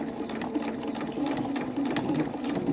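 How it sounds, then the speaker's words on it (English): A sewing machine stitches fabric for a drawstring bag with a steady, close, rapid mechanical whirring hum that runs continuously throughout. "And we're going to sew."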